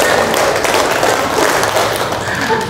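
A group of women clapping hands in a counting game, steady dense claps close by, filling the whole stretch with a busy rhythmic patter.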